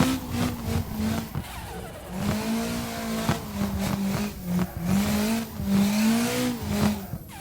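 Game car drifting in CarX Drift Racing Online or Assetto Corsa, its engine revving up and down with the throttle being modulated, loud and continuous with rising and falling pitch and hints of tire squeal.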